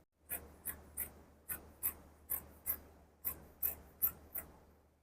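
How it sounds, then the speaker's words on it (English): Scissors snip through fabric for a jumpsuit crotch extension, about ten crisp, evenly spaced cuts, close and alone. "So I'll cut it from there straight all the way down."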